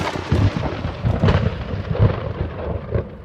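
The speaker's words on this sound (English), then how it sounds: "They watched the rain from inside the monument as thunder crashed all around them." Thunder crashes during a rainstorm on a mountain summit, heard from inside a stone monument; loud, deep rumbling booms roll one after another for several seconds with no voices.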